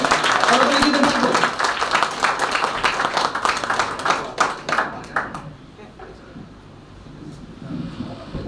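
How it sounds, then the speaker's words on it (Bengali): Audience applause welcoming a speaker onto the stage at a DXN Bangladesh marketing plan event: dense clapping from a crowd, strongest at first and thinning toward the end, with a voice faintly heard underneath. "তার পূর্বে তাকে আমরা ওয়েলকাম করব জোরে করতালির মাধ্যমে"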